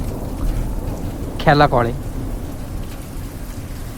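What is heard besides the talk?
rain falling in the mountains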